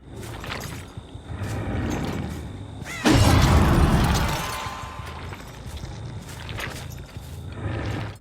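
Clanking movement and scraping effects from the Iron Maiden Eddie skin in Dead by Daylight, then a loud crashing, shattering impact burst with a heavy boom as he attacks, followed by further clattering game sounds.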